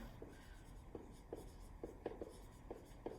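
Pen or marker writing a word by hand on a board or paper, a faint series of short scratchy strokes in uneven rhythm, close and quiet, with no voices.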